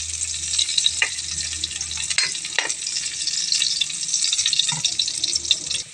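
Food sizzling in a pan after ginger goes in, a soft steady fizz with a few clicks and scrapes of stirring, fairly close and moderate in level, with no talking.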